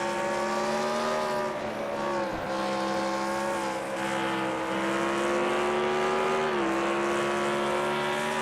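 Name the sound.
race car engine in a NASCAR racing video game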